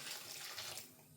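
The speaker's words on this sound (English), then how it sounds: "Pour the stock in." Stock pours into a pot of beef cobbler as a soft, steady liquid gush and splash lasting about a second, faint and close with no talking.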